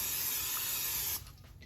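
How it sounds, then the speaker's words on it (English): A steady close hiss of cooking spray for about a second, then it stops, leaving quiet room sound. "Next I'm using the cooking spray."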